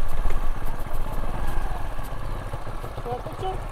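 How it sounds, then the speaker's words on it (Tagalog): A motorcycle engine rumbles nearby with a steady, rough low clatter, as if passing along the road close by, with wind noise and faint voices in the background. "Ata dinadaan ng motor yan."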